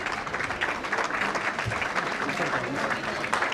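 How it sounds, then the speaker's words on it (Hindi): Loud, dense applause fills a university auditorium as the Governor enters for a hostel inauguration ceremony and G20 conclave, steady clapping from a large audience throughout with a voice faintly under it. "जोरदार तालियों के साथ उनका स्वागत करें"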